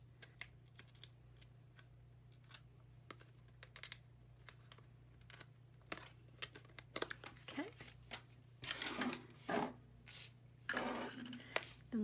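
Backing strip is peeled from card stock while making a candy cane card background, giving sharp crinkling tears and rustles that grow louder near the end, with quiet handling clicks before them.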